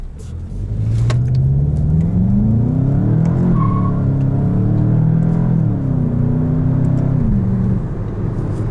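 A 2020 Volkswagen Jetta GLI with a DSG transmission pulls hard from the cabin, engine drone rising in pitch then dropping sharply at a quick gearshift, climbing again and shifting once more, loud and close with no talking.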